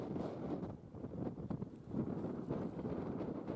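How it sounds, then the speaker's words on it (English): Gusty wind roars against the microphone, a low steady rumble with buffeting surges throughout. "Oof, it is windy."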